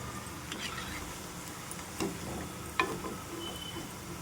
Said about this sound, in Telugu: ఇలా కలుపుకుంటుంటే ఒకవైపు కాలినా కాలకపోయినా కూడా చక్కగా కాలుతాయి అన్నమాట ఫ్రై అవుతాయి